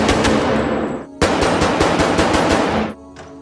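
Rapid automatic gunfire at a firing range in a film scene, loud dense bursts in two long volleys with a brief pause between, then a sharp drop to quiet.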